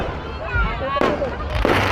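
Fireworks burst at a fiesta carnival in Cavite City, Philippines: a rolling crackle and hiss with sharp, booming reports, loud and nearby, under crowd noise and a voice.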